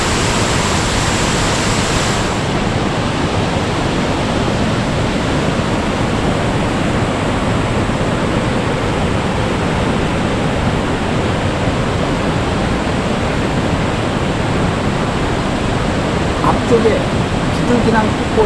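The Bidulginang waterfall on the Hantan River, about 15 m high, roars after heavy rain as a loud, steady rush of falling water that fills the scene without pause and drowns out other sounds.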